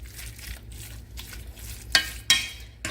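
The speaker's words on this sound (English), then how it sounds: "You just mix it up with a little bit of liquid like that." Mashed green potatoes are stirred together with a little liquid. Soft, wet stirring and squishing sounds up close, with a couple of sharper scraping knocks near the end and no talking.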